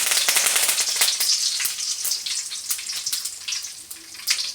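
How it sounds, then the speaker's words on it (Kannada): Mustard seeds and curry leaves crackle and sizzle in hot oil for a coconut rasam, a dense, close spitting hiss with sharp popping bursts throughout, heard alone. "ಎಣ್ಣೆ ಕಾದ್ಮೇಲೆ ಸಾಸಿವೆ ಹಾಕ್ಕೊತಾ ಇದ್ದೀನಿ. ಸ್ವಲ್ಪ ಕರ್ಬೇವಿನ ಸೊಪ್ಪು ಹಾಕ್ಕೊತಾ ಇದ್ದೀನಿ."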